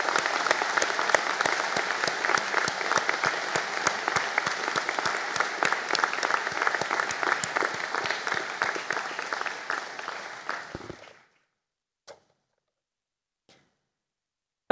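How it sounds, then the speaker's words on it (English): A seated crowd at a university conferring ceremony applauds a graduating Occupational Safety and Health class, a dense, steady round of clapping for about eleven seconds that stops abruptly, leaving near silence with a few faint clicks. "please give them a big round of applause"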